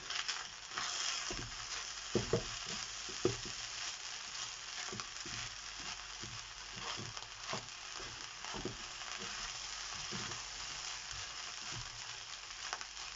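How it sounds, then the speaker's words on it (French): Cantonese fried rice seasoned with a little cumin being stirred in a hot pan, repeated scraping and tapping of the utensil over a continuous soft sizzle, close up. "Et on remue."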